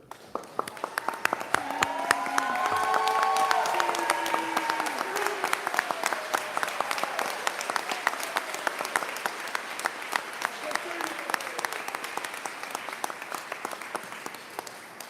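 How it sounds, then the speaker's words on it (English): An audience stands and applauds a fire chief at a fire rescue station grand opening, with steady, sustained clapping that swells early, then holds dense and even throughout, with faint voices mixed in. "just stand, give me a hand clap for Fire Chief John Kurd."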